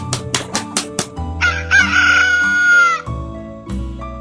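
A cartoon rooster gives a few clucks, then a loud, drawn-out cock-a-doodle-doo crow, followed by a couple more clucks. It sounds close and clear with no talking.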